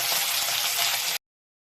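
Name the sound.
fish frying in oil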